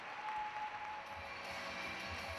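Spectators clap in the Granada Igloo arena at the Winter Universiade in Spain after a performance, a steady, fairly faint wash of applause heard from a distance.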